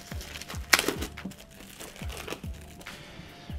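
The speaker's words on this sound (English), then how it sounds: "So we are going to unwrap this." Foam packaging crinkles and crunches around a YouTube Play Button award as it is unwrapped, with repeated close handling bursts and one sharp louder crackle early on, and no talking.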